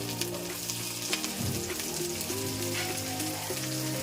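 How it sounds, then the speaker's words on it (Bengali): Chopped cabbage, carrot, capsicum, beans and peas fry in hot oil for veg chowmein. A steady, close sizzle carries on throughout, with brief stirring scrapes. "তারপর তেলটা গরম হয়ে গেলে তেলের মধ্যে দিয়ে দেবো কেটে রাখা বাঁধাকপি, গাজর, ক্যাপসিকাম, বিনস এবং মটরশুঁটি"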